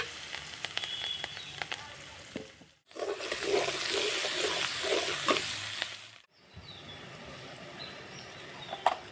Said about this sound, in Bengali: পেঁয়াজ কাঁচামরিচটা দিয়ে দিলাম এবার ভালো করে ভেজে নিই